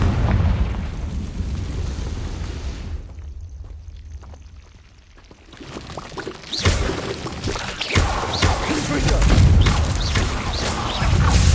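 A fiery Confringo spell blast in Hogwarts Legacy, a quieter rumbling lull giving way to a loud, sustained roaring burst of crackling explosions and debris.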